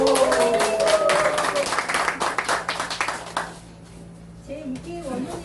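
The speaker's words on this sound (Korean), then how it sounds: "큰 박수 다시 보내주세요" An audience at a course opening ceremony gives loud, dense applause after a performance for several seconds. The clapping then fades, and a voice starts speaking.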